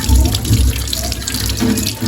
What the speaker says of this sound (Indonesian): Kita bilas menggunakan air mengalir.